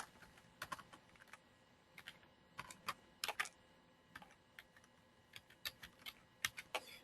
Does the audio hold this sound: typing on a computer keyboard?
yes